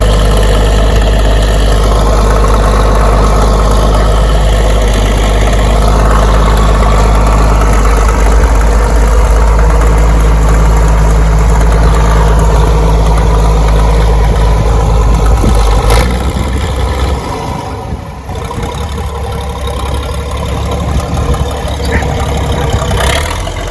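A tractor engine idles and revs on icy ground while loading a large Dodge onto a trailer, a loud, steady low rumble with rising and falling throttle and a brief dip near the end.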